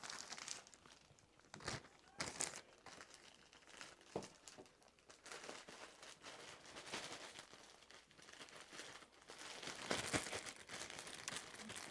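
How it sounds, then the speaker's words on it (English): Soft plastic crinkles and rustles while a garment is folded and slipped into an 11 by 14 plastic shipping bag for resale. The crinkling runs steadily and close for several seconds, with a few louder crackles, and people speak quietly at times. "this one I'm actually going to fold in half so it sits in my bag easier"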